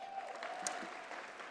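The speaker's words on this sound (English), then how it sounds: "Give yourselves a big round of applause." Audience at the 2019 CFDA Fashion Awards ceremony applauding, a steady dense patter of clapping with faint crowd murmur throughout a brief moment.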